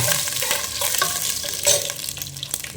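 Dried red chillies fry in hot oil in a pan for a fish curry, giving a steady close sizzle with some stirring scrapes, and no one speaks.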